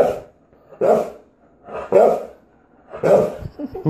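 A jealous dog barks four times in a slow, evenly spaced series, loud and close, each bark sharp and full.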